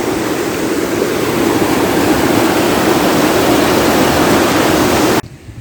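Mountain stream in a highland pasture, rushing loudly and steadily as broadband water noise close by, cutting off abruptly near the end.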